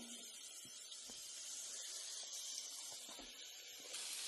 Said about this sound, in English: So you can saute everything.